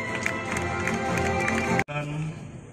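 Guests at the inauguration of Bogor's town square applaud, a steady wash of clapping with a cheer or two over background music, broken by a sudden cut before the crowd noise resumes more thinly.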